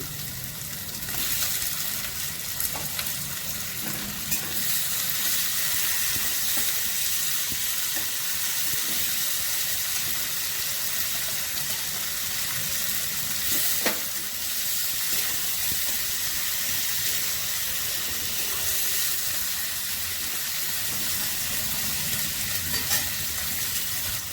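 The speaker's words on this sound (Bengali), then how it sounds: "পেঁয়াজ দিয়ে দিচ্ছি, আমি একসঙ্গে চিংড়ি মাছ দিয়ে দিচ্ছি" Onion and prawns frying together in a pan with black cumin for a ridge gourd and prawn dish, giving a dense continuous sizzle up close, with occasional stirring scrapes and a faint hiss of steam.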